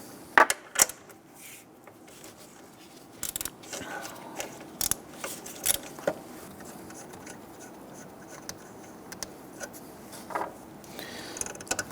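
Sparse, faint ratcheting clicks and small metallic ticks of a wrench loosening and removing a 13mm bolt near the alternator of a 1999-2004 Jeep Grand Cherokee 4.7L V8, close by, with quiet gaps between bursts.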